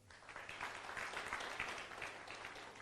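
Soft, steady applause from an audience at a success seminar, a dense wash of distant clapping that holds evenly for a few seconds.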